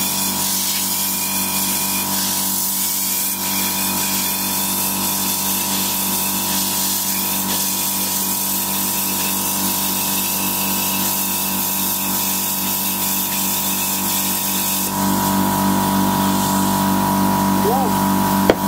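A plasma cutter slices steel inside an anti-spatter box, a steady loud hiss and buzz running throughout, with the tone shifting slightly as the cut continues near the end.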